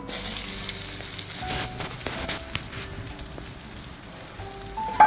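Chopped onion dropped into a little hot oil in a wok, a crackling, rain-like sizzle running steadily with light stirring clatter and a sharp knock at the end.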